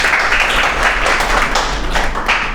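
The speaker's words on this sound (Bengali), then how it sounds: "সিফগাতের জন্য একটা হাততালি।" A classroom of university students applauds a classmate, a steady burst of clapping from many hands that fills the room, loud and continuous for a couple of seconds with no talking.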